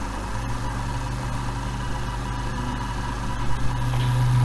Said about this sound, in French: vous entendez le bruit du petit moteur